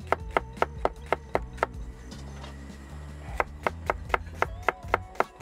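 A knife slices white onions on a chopping board at a campsite, making a quick run of sharp, evenly spaced taps, a brief pause, then another steady run, close and clear over a low background hum.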